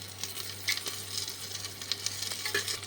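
Green mango pieces lightly frying in oil after a mustard seed tempering, a soft steady sizzle with sparse pops and small spatters, a low hum beneath, no voices.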